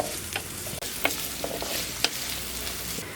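Finely chopped onion frying in a pan, a faint, even sizzle with a few soft clicks of a spoon stirring, close by.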